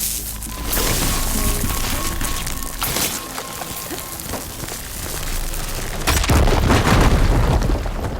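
A fire gleam blast goes off in the video game Horizon Forbidden West, a loud, deep booming rumble that rolls on continuously, with a second heavier surge of crackling near the end, no voices.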